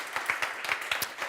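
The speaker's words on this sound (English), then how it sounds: "Could you please give them also a warm round of applause?" Many hands clap together in a warm round of applause at a European hydrogen forum, an even, fairly loud patter with a few distinct claps standing out for its brief length.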